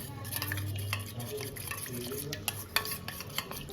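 Milk mixed with rose water, orange food colour and biryani masala is stirred in a bowl for prawn biryani, giving a steady close scraping and swirling with a few clinks of utensil against the dish, alone without talk.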